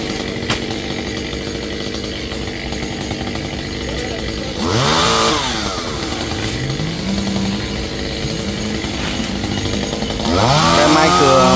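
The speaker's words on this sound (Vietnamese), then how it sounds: "là máy cưa Echo nha các bạn" Echo mini chainsaw cutting through a large kapok tree near power lines, its engine idling with a steady drone, then revving loudly in two bursts of cutting, close by.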